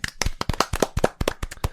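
Quick, loud run of about a dozen sharp hand claps from an audience, close and uneven in rhythm, with no talking over them.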